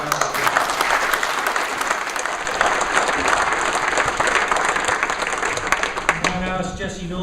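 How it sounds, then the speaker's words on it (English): A round of applause from an audience at a county best-practice gathering, sustained clapping throughout before fading near the end as a voice begins to speak over it. "I think we should give them all a little round of applause."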